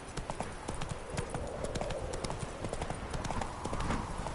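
Hooves of Roach, Geralt's horse in The Witcher 3: Wild Hunt, clip-clopping in a quick, even rhythm, close and steady throughout over faint game background.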